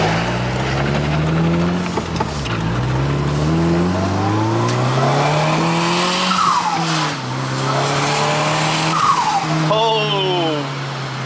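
A turbocharged BMW M43-engine 316i/318i running too much boost pulls hard through the gears, its engine note rising and dropping at each shift with loud intake and exhaust roar under occasional talk from the people inside.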